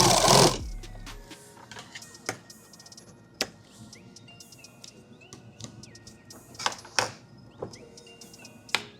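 A sewing machine tacks pieces of a magazine bag in short, sharp bursts of stitching, separated by quiet pauses, close by in a quiet room.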